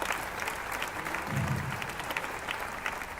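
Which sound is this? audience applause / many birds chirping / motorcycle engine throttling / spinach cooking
audience applause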